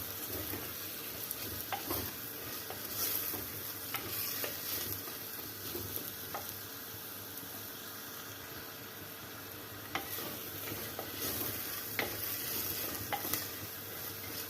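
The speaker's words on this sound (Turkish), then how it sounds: "Şimdi havucumu havucumu koyup biraz da havucumla kavuracağım." Carrots sauté with onions in oil in a pot, giving a soft, steady sizzle with occasional light stirring scrapes and taps throughout, fairly quiet and with no voices.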